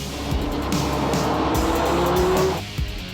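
A Ferrari F50 supercar engine roars loudly and steadily, its pitch climbing before dropping off near the end, with a faint tire squeal beneath.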